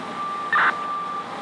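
FDNY fire trucks backing out at a fire scene, with a steady reversing tone and one brief, louder electronic burst over the low rumble of idling engines.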